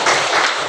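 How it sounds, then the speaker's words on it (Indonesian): A class claps for a student group in a classroom, a short burst of dense, steady applause from many hands close by. "Tepuk tangan untuk kelompok 2."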